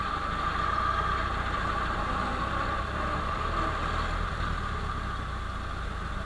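A Ford Model T engine runs with its throttle worked by hand, a steady low idling rumble and vibration, fairly quiet and unbroken, with no voices.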